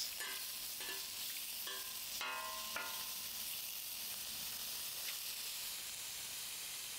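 Precooked sausages browning in a pan give a soft, steady sizzling hiss throughout, quiet and even, with a few brief tonal clinks near the start and no speech.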